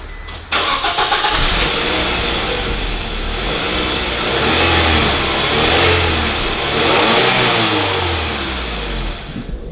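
A Scion tC with its muffler deleted starts up, then revs repeatedly with rising and falling engine swells and settles back toward idle, loud and close with no talking.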